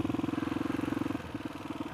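Suzuki DRZ400S motorcycle with a stroker big-bore engine running at low speed, a steady close-up thumping rhythm that loosens slightly toward the end, with no talk over it.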